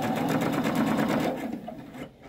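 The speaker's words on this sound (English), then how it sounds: "Now I'm going to go ahead and finish sewing" A sewing machine runs continuously stitching piping cording, a fast, close mechanical whirr with even rapid pulses that slows and fades near the end.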